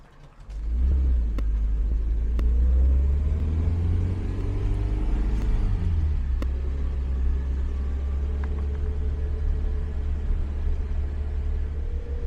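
An East German car with a cotton-and-resin body drives along, giving a steady low engine rumble that swells as it pulls away and then settles into a continuous drone, close and alone without talk.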